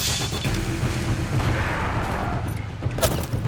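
Rapid gunfire from a shooter video game during a firefight, dense continuous bursts of shots and booms layered over a steady low rumble, loud and close throughout with no pauses.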